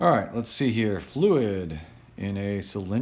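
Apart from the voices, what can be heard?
None of the usual background noises is heard.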